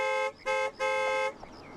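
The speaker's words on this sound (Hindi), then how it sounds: "अरे हॉर्न मारो ना भाई" Three car horn honks, a short blast, another short one, then a longer held blast, loud and close, followed by quieter background noise.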